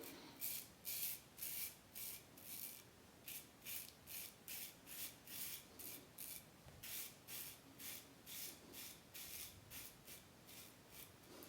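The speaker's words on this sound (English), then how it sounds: "You can feel the open tooth comb gliding along the skin" Open-comb safety razor, an EZ Muhle R41, shaving facial skin with gentle pressure: a run of short, raspy scraping strokes repeating steadily at close range, each a quick crisp swipe with brief pauses between.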